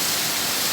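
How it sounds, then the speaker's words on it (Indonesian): Rain falls steadily in Banda Aceh, a brief, even hiss of downpour with no distinct drops or voices. "ini sudah mulai mendung hujan, langsung hujan. Turun kembali."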